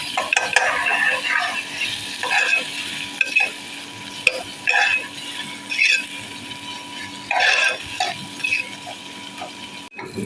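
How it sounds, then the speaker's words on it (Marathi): Ginger-garlic paste frying in a pan while a wild-vegetable dish is cooked, heard as a soft sizzle punctuated by repeated scraping strokes of a spoon stirring against the metal. "एक चमचा अद्रक लसणाची पेस्ट घातली त्याला छान शिजू द्यायचं आता"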